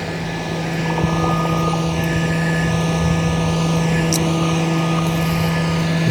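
Steady whirring drone of small propellers runs without a break, a constant loud hum near the microphone with no voices, as a drone powers up for takeoff.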